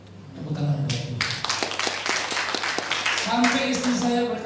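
A church congregation applauds together during a sermon, a dense, sustained wash of clapping filling the room alongside voices and a low hum.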